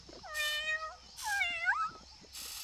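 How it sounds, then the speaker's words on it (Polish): A cartoon dinosaur gives two drawn-out, cat-like meows, one after the other, each rising and falling in pitch, with brief gaps and no talk. "on mówi jak kot"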